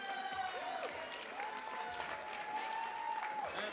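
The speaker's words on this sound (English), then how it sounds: "Let's hear another big round of applause." A steady round of audience applause for the best female lifter at a powerlifting nationals awards ceremony, dense and continuous for a few seconds, with a faint voice running underneath.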